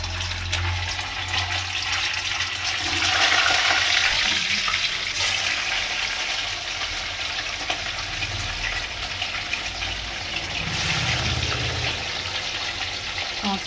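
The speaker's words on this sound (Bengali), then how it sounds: "কড়ায় তেল দিয়েছি, তেলটা গরম হয়ে গেছে। এবার আমি মাছগুলো একে একে দিয়ে দেবো।" Salted katla fish pieces hiss and sizzle steadily in hot oil in a wok, a continuous loud frying sputter with a brief surge partway through and no talk.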